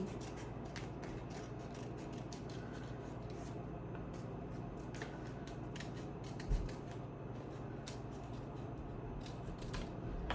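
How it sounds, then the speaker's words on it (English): Scissors snip through craft material while a side table is being made, faint and close, a run of small crisp cuts over a quiet room, with one soft thump near the middle and no talk. "just cut this a little closer so I can get it right into the corner where I'm wanting to be"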